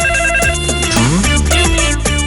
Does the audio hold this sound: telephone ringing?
yes